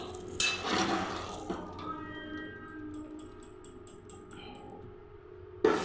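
A pot of boiled bottle gourd clanks down on a kitchen surface, followed by light metallic clinks, ticks and faint drips as it settles, then a sharp knock at the end.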